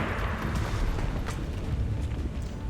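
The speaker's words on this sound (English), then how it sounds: "No need to shoot around corners when you can just lob a grenade." A grenade blast in XCOM 2 lands as a deep, rolling boom that fills the short stretch with a dense low rumble and debris rattle, with no voice over it.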